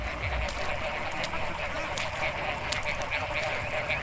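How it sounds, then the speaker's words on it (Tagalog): Pet ducks quack in a lively chorus out in rain-soaked rice paddies, overlapping calls repeating steadily across the whole stretch amid a busy outdoor din. "Saya-saya ng mga alaga nating bibi dito."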